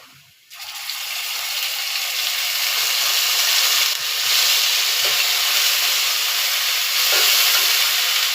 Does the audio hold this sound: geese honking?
no